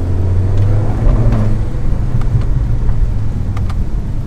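A Mini Cooper S engine with tuned software drones loudly at close range, a low steady rumble with a few sharp short pops scattered through it, and no talking.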